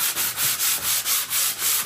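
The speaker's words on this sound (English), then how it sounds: "I'm going to give this a very light sand in between the two coats." Painted wood being lightly sanded by hand with special sandpaper for wood, a close, steady rhythmic back-and-forth scratching in even strokes, about eight passes with no talk.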